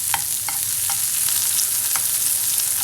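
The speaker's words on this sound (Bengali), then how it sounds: "এর মধ্যে আমি একটু সয়াবিন তেল দিয়ে দিলাম। এটা একটু ভেজে নিই" A handful of onions frying in soybean oil, a loud, steady, close hiss of sizzling with a few brief spattering pops.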